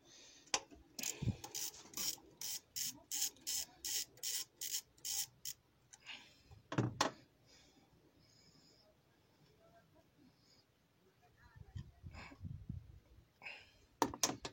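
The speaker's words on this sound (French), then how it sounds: "avec le cliquet et la douille, je vais venir dévisser l'arrivée d'huile." A ratchet and socket loosening the turbo oil feed line on an Alfa Romeo Giulietta 2.0 JTDM: a run of quick, regular clicking bursts up close, then quiet handling and a few scattered clicks.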